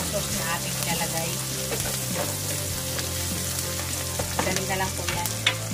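Beef for a coconut-milk kaldereta sizzles and fries steadily in a pan, with scraping stirs breaking through the constant crackle; a voice speaks briefly near the start.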